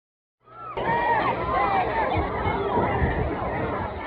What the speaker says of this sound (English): Listen to the crowd's screams of grief in the beginning of his speech.